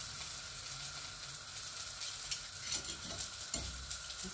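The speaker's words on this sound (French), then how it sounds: "Je viens faire revenir la pâte." Dough for stuffed mesemen sizzles in a pan, a soft, steady frying hiss heard close up, with occasional scrapes and taps from stirring or turning toward the end and no talk.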